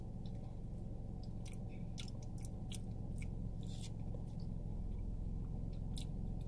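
Someone chewing a mouthful of breakfast grits close up, with soft wet mastication and occasional crunchy bites against a steady low hum; no one speaks.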